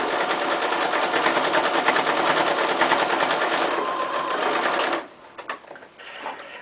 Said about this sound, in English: So we're going to sew from one dot to another.